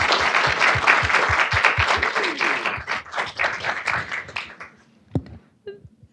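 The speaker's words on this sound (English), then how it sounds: "Can we give our fellows one more round of applause?" Audience applause for a group of fellows at a climate resilience funding event: dense, loud clapping from a crowd that thins out and fades over several seconds, ending with a few scattered claps.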